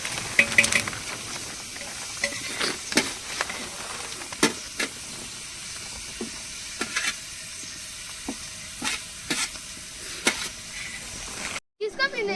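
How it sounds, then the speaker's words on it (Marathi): Chili and tomato sizzle and crackle in a pot for chicken biryani being cooked outdoors in a forest, with loud bursts of frying over steady hiss and clinks of stirring throughout. "हे आता मिरची आणि टोमॅटो टाकतोय"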